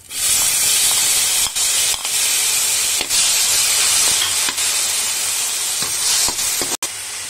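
Tomatoes sizzling in a hot pan while cooking for honey chilli potato, a loud, continuous hissing spray with scattered pops and ticks and a brief cut near the end.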